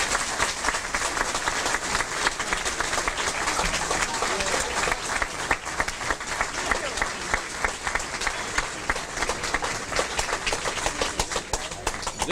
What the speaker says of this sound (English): Let's give all of our inductees for this evening another round of applause.